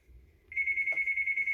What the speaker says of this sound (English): Oops, sorry about the phone, everybody.